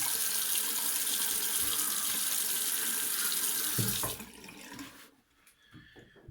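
A bathroom faucet pours water into a sink as a man wets his face before a shave, a steady close splashing stream for about four seconds before it shuts off, leaving quiet drips and faint handling.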